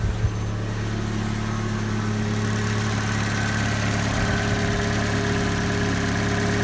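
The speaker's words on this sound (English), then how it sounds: "As you can tell, the engine runs very smoothly." Ford Ka petrol engine idling smoothly after a first-time start, a steady low mechanical hum with even rumble held throughout at close range, no talking over it.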